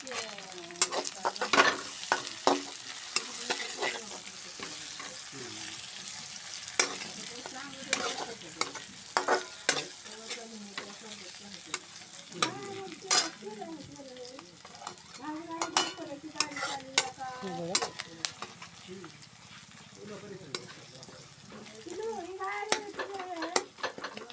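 Curry leaves frying in hot oil for a samosa filling, a steady sizzle with stirring and spoon scrapes against the pan throughout, close and moderately loud, with no talking.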